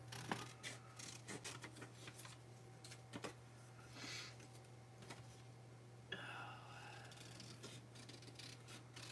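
Scissors fussy cutting around shapes in paper, giving soft, irregular snips and rubbing scrapes that are close but faint over a steady low hum, with no talking.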